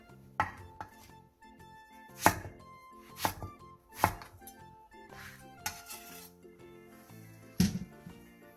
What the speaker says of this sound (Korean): 가지 6개를 반으로 자른 뒤 먹기 좋은 크기로 잘라주세요